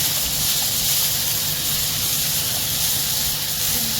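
Chicken pieces with a little salt sautéing in a hot pan, giving a steady, even sizzling hiss that continues without pause.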